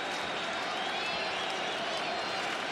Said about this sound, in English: Now the crowd is starting to get into it just a little bit.